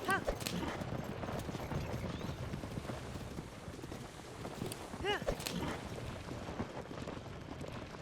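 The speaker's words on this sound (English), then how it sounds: "Hi-ho, horsey, away!" Horse hooves clopping in the video game Tears of the Kingdom, a rhythmic galloping under game music with a couple of whinnies and some talk.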